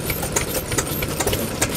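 A Kubota E-type 5 horsepower kerosene stationary engine runs at an engine show in Joso, Ibaraki, chugging with a steady rapid knocking beat, close and loud, with no talk.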